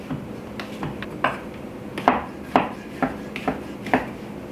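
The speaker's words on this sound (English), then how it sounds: "in the sink, and then just continue on with your chopping." Knife chopping mushrooms on a board, a series of sharp, irregular knocks about half a second apart, close up, with no talking.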